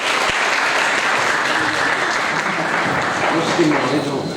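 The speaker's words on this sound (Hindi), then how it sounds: "जोरदार ताली बजाएं।" A church congregation claps loudly, with sustained, dense applause filling the room while voices can be heard underneath.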